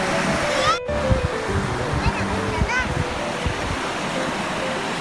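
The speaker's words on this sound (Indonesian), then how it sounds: "Angin kuat lah. Ombak pun bersayap. Angin kuat." Strong wind and surf roll in at Perupok Bachok beach at sunset, a steady broad roar of waves and gusting wind, with voices and children's calls faintly underneath.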